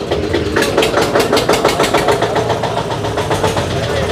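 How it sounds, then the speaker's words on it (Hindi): A tractor engine idles at a tractor market, throbbing in a steady, even pulse at close range, with some voices in the background. "ट्रैक्टर भाई आई सर।"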